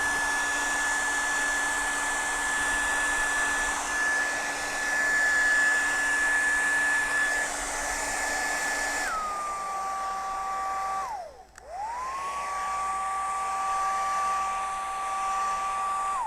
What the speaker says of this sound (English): you could sit and let this dry at this point, or you could blow dry it.